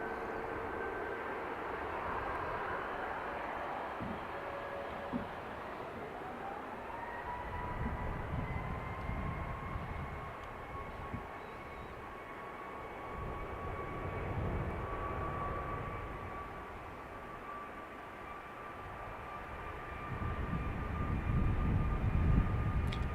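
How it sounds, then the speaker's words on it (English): A Ryanair airliner departing Dublin Airport for Leeds Bradford: a fairly faint jet engine whine rises in pitch and holds steady over a low rumble that grows louder near the end, with no speech. "This is a Ryanair going to Leeds Bradford."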